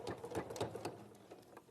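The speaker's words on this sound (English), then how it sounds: "I'm going to sew these together to make" A sewing machine stitching half square triangle patches together for a quilt corner block, a quick close burst of rhythmic needle clatter, quiet and alone.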